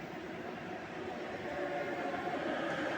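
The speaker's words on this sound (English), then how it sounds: "And there goes the train." A train passes by at moderate distance as a steady rushing rumble that swells slightly louder partway through.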